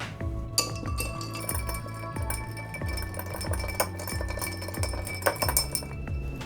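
A bar spoon swirls ice in a mixing glass while stirring a gin martini, producing a steady, close, rhythmic rattle and clink of ice against glass throughout, with brighter pings near the end.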